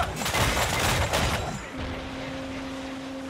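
Ship cannon fire in the pirate-era video game Assassin's Creed Freedom Cry: a loud, dense burst of booming shots through the first second and a half, then a fading rumble with a steady tone behind it.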